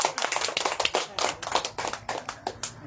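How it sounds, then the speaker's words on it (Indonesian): An audience clapping hands, a rapid, uneven burst of applause from a small group, fairly close and sharp, lasting a few seconds without voices. "Tepuk tangan."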